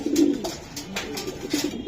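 A white female racing pigeon from a racing club coos in soft, repeated low calls close by, with a few brief bursts between them.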